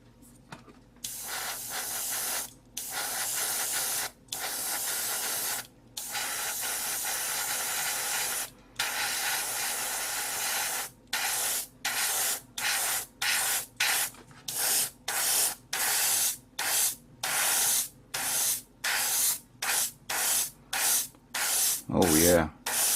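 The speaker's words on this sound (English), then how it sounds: "The flow on this airbrush is very well, and good pressure tone on this control." An AIRGOO AG-426 compressor-driven airbrush sprays Salisbury Red paint in repeated hissing bursts, with long sprays at first and then quicker, shorter pulses separated by brief silences; a low rumble is heard at the very end.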